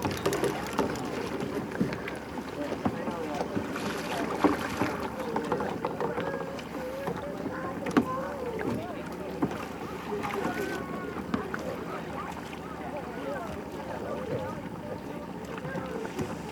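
Rental kayaks paddle across open water toward a rock formation on a group outing at John Day, with soft splashing and paddle strokes under wind noise while people talk nearby.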